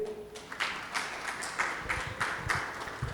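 An audience applauds Doctor Cabrera at an evening lecture event, moderately distant clapping in soft repeated swells lasting several seconds.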